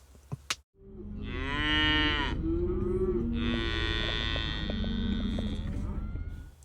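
Cattle on a drive along a road moo loudly and close, long overlapping bellows from several animals following a brief knock at the start.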